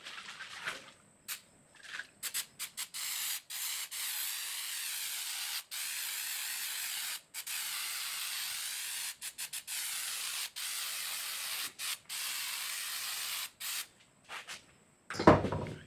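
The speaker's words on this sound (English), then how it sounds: "Now I'll give it another coat to work on this primer coat" A spray gun lays a primer coat on a rusted quarter panel of a barn-find car, sounding as a close, steady hiss broken into many short bursts by brief pauses, with a clunk near the end.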